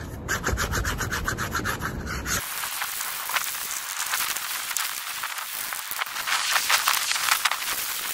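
Wax is scraped off the plastic bases of mini skis with a hand scraper, giving steady close rasping strokes for several seconds, preceded by a brief burst of different busy noise at the start.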